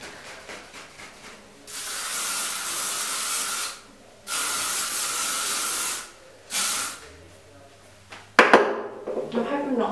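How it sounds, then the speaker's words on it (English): Long hissing bursts of aerosol spray, three sustained blasts separated by short pauses, followed by faint handling noises. "Now you might think I'm going a bit excessive with the hairspray"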